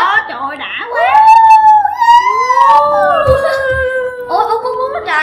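A dog or wolf in the Minecraft video game whines and howls in long rising and falling tones, loud and close, with short yips mixed in.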